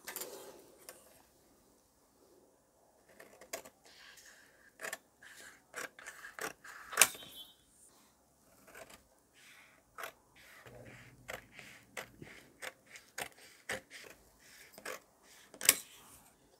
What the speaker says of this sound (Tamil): இப்போ கிராஸ் பட்டியை கட் பண்ணிடலாம்.